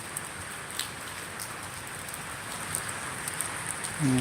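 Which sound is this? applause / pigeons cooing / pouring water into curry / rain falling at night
rain falling at night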